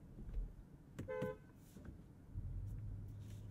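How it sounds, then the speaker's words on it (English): A 2022 Audi S8 L sounds its horn in two short honks, the second one a bit longer. The tone is modest and fairly high, heard from inside the car over a low engine idle. "we can do the world famous horn test"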